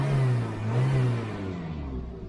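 A cheap hot hatch's free-revving engine with a light flywheel revs up and down in a couple of smooth, quick swells, loud and close, with a steady mechanical hum underneath.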